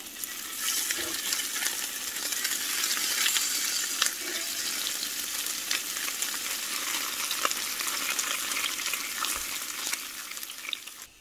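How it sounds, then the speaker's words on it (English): Bacon sizzles and crackles on a hot skillet at a campground, a steady bright hiss dotted with sharp pops, heard close up with no talking. "nothing sounds better in the morning than the sound of sizzling bacon on a hot skillet"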